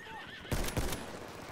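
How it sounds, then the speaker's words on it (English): Horse neighing in Battlefield 1, a short loud whinny with two bursts, accompanied by faint hoof clops and quiet game background sound. "Horse on flag."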